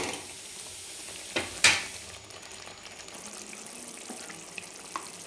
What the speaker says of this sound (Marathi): तर आपण 5 मिनिट ह्याला शिजू देऊ.